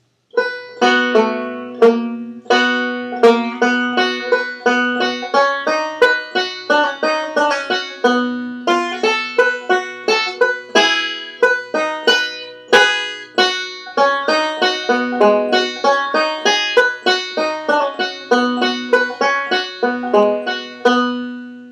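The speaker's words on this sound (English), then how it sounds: "now our second A part is going to sound like this" Fast picked rolls on a bluegrass banjo carry the second A part of a bluegrass tune, played solo with crisp, evenly spaced plucks and a bright ringing tone throughout.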